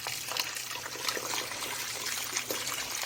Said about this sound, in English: So I'm putting the hot water